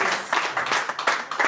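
An audience at a concert applauds a singer, with lively uneven clapping that pulses and swells across the short stretch, fairly close and full.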